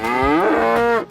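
A cow in a 3D animal slide video game gives one long, loud, close moo with a rising then falling pitch that fills the moment before cutting off.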